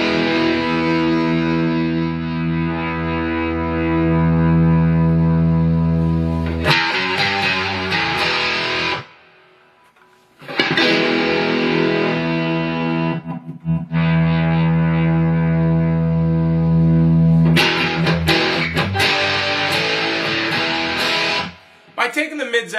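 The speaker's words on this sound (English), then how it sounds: "out with an overdrive distortion like this," Electric guitar played through an amp with overdrive distortion and scooped mids, loud sustained chords in three long phrases separated by short breaks.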